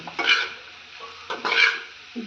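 Food is stirred in a pan, with scraping and clattering bursts of a utensil against the pan in a few separate strokes over a soft background sizzle.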